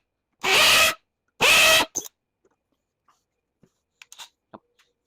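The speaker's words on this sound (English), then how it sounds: "A couple more rivets we'll drill out" A power drill drills out rivets on a golf cart tub in two loud, roughly half-second bursts, followed by a few faint clicks and scrapes.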